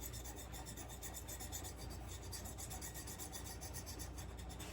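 Scrubbing wax off fresh produce before cooking pork chops, a steady dry rasping rub repeating continuously and faintly up close, with no talking.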